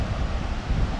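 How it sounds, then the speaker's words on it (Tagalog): Strong wind buffets a beach campsite on the Real, Quezon coast, a loud, dense rumble of gusts pressing on the microphone with surf hinting underneath, no voices. "Medyo lumakas yung hangin."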